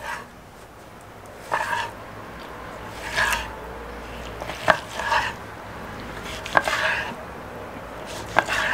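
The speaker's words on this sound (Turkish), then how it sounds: "Şimdi müsaadenizle bir dilimleyelim." Wagyu steak, one piece grilled over charcoal and one cooked sous vide, is sliced on a board, with several spaced knife strokes landing as sharp taps and brief scraping sounds over a quiet room background.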